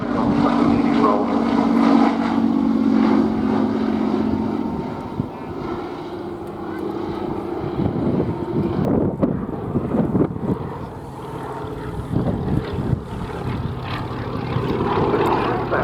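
A Fairey Swordfish biplane flies at the Duxford air display, its propeller engine droning loudly, then fading and swelling again against gusty wind noise on the microphone, with commentary heard throughout.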